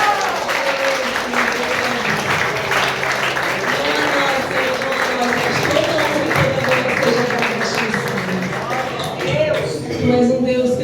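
A church congregation claps together during a celebration service, a dense sustained wash of applause with voices mixed in.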